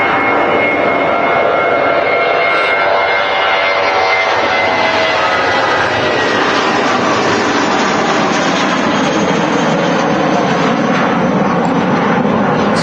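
A Ryanair airliner at Manchester Airport roars loudly and steadily, a broad jet-engine rush that fills the whole clip without pause.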